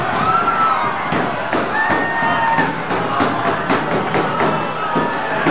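A sold-out wrestling crowd at the Longboat Hall on Queen Street West in Toronto roars after a superplex onto a ladder, a steady loud wash of cheering and shouting with thuds and bursts of applause under a commentator's voice.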